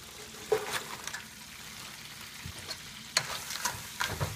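Lobster shells sizzle in a pot over heat, a steady close frying hiss with occasional stirring scrapes and clicks, no voices.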